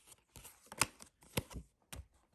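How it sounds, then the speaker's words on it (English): Tarot cards being shuffled quickly by hand, a run of soft papery riffles and slaps in short bursts with brief pauses between, close and fairly quiet. "Let me shuffle really quickly"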